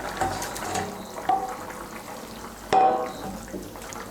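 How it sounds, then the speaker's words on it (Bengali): Fried lata fish are dropped into a simmering potato curry in a pan, giving a few soft splashes and bubbling sounds, with one sharper splash near the end, all close and fairly quiet. "এখন আঁচটাকে বাড়িয়ে দেব, বাড়িয়ে দিয়ে এর মধ্যে দিয়ে দেবো ভেজে রাখা মাছগুলো।"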